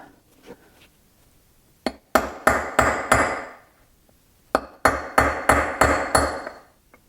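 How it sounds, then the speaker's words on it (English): Sharp metallic hammer strikes on a punch tapping out mower bushings, in two bursts of rapid, evenly spaced taps, ringing a little after each blow, with a short pause between groups. "you're going to need some kind of punch and a hammer to tap them out"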